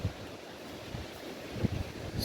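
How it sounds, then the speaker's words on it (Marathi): Cool sea breeze at a beach resort facing the ocean among coconut palms, heard as a steady broadband rush of wind and distant surf with a few soft gusts buffeting the microphone. "इतका छान थंड वारा सुटलेला आहे"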